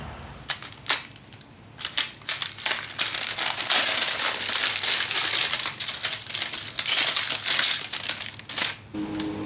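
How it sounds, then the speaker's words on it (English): Plastic wrap is pulled and torn off a new Voltbike e-bike, making loud, close crinkling and crackling bursts in irregular rhythm, denser and louder in the middle and tapering off at the end, with no speech. "the ultimate new toy thing, to pull the plastic off"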